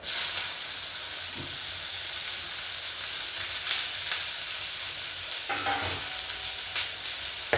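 Moringa leaves tossed into a hot pan for curry sizzle and hiss steadily up close, with occasional stirring scrapes and no talking.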